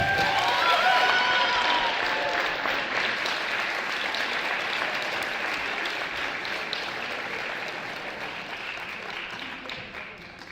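Sustained audience applause at an awards ceremony for an honor society induction, many hands clapping in a large room, steady and even for about ten seconds and slowly tapering off.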